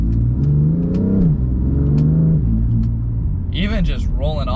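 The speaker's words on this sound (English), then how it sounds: "Even just rolling onto it, you can just feel this car just wants to go and go and just doesn't want to stop" A BMW M3 CS, number 128 of 600 built for the US, rumbles and revs as it accelerates, its engine note rising and falling in pitch. A sharper surge comes near the end, heard from inside the cabin.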